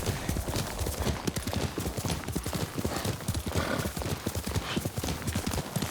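Rapid, steady clip-clop of horse hooves trotting close by in the video game Ghost of Tsushima, with a faint whinny mixed in and no speech.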